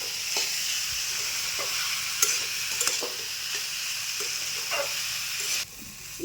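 Ground spice masala frying in a pan, a steady close sizzle with intermittent stirring scrapes and clinks, made while preparing a cauliflower-filled pitha.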